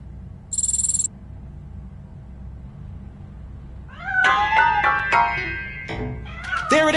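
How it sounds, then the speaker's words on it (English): A cat hiding inside a piano gives several tonal meows in the second half, loud and close, rising and falling, after a brief electronic beep near the start over a quiet room hum. "That cat must be hiding inside."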